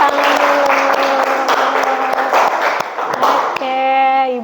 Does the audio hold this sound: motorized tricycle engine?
no